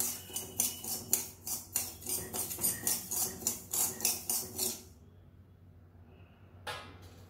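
Garden cress seeds are dry-roasted in a pan and stirred in quick, rhythmic scrapes of a metal utensil with light rattling, close and steady for several seconds before stopping, followed by a brief later scrape.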